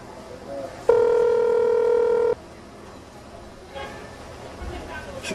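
A telephone sounding a single steady electronic tone lasting about a second and a half, loud and close, followed by quieter room noise and faint voices.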